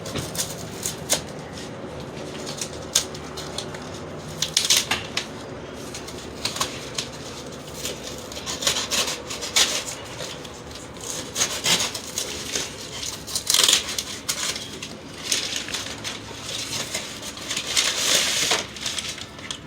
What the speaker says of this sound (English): So I'm gonna open up the box right quick.